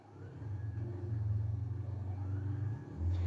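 In GTA 5, a car engine drones steadily as it climbs Mount Chiliad, a low rumbling hum that swells and holds with small revving surges, ending on a louder push.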